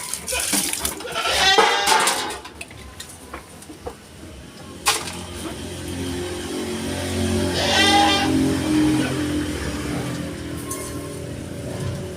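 Goats bleat while being given feed, a couple of loud nearby calls standing out over rustling and background farm noise, with other bleats trailing off in the distance.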